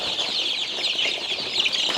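Young chicks just brought by road to a backyard farm give a continuous chorus of high cheeping and peeping, close and moderately loud, with no talking.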